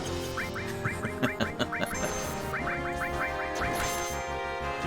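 A stream goose-button sound effect plays loud, repeated honking and quacking in quick rhythmic bursts over steady game music.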